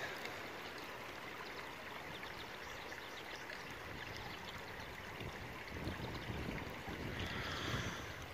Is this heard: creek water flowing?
yes